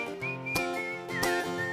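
Clear melodic whistling carries a tune over a live country band in a bar, steady and prominent above guitar and rhythm accompaniment throughout.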